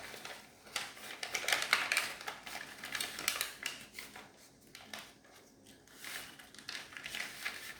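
Paper folded for an origami cupid gives crisp crinkles, rustles and sharp creasing snaps in irregular bursts, close and fairly quiet with brief pauses between folds.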